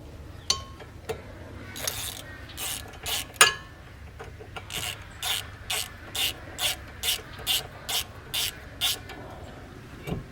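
A hand ratchet fitted with an extension spins out a brake caliper screw on a Cadillac CTS during a sports brake install, giving a long run of evenly spaced clicking pawl bursts close up, with scattered metallic clinks before.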